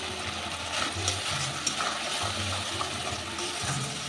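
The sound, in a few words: spices briefly sautéing in mustard oil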